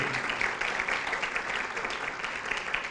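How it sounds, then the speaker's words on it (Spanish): Church congregation applauding, a dense steady wash of many hands clapping at moderate volume for the full few seconds, with no distinct voices over it. "Aplaudimos para recibir la palabra con bendición, con gozo, con alegría."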